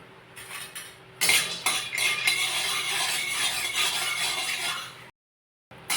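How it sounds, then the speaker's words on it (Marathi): Peanuts are dry-roasted in a pan, giving a steady scraping, rattling clatter of a spoon on metal that runs loud and continuous for several seconds before cutting off. "शेंगदाणे पण आपल्याला भाजून घ्यायचे"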